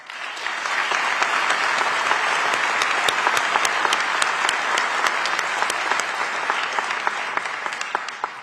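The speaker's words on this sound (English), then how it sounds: "Let's give all of our promotees another round of applause." A large audience at a police promotional ceremony claps for the promotees, loud and sustained dense applause with crisp individual claps throughout.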